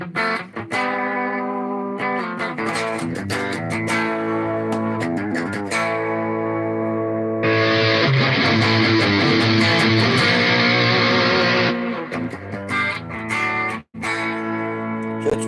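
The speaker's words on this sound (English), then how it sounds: "So this would be the amp setting without the distortion on." Electric guitar played through an amp with a mostly clean tone, chords ringing out steadily; a brighter, fuller strummed section swells in the middle before settling back.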